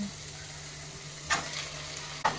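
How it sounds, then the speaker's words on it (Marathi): Chicken mince frying in a pan with onion, ginger, garlic and chili paste, a filling for chicken cheese samosas. A soft, low, steady sizzle runs throughout, with two brief scraping stir sounds, and nobody speaks. "यामध्ये आपण चिकनचा खिमा टाकूया।"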